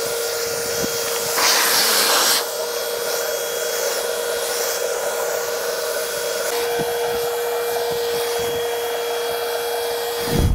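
A paint sprayer runs at its slower setting while spraying a large graffiti mural, a steady close airy hiss with a constant tonal whine, briefly louder for a second or so early on, otherwise unchanging throughout.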